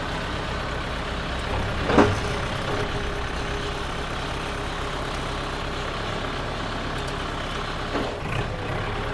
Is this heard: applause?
no